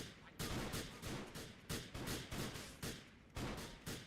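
Bursts of gunfire from an overpowered weapon in GTA IV: The Lost and Damned, heard as several quick clusters of sharp shots separated by short pauses, fairly quiet overall with no talk.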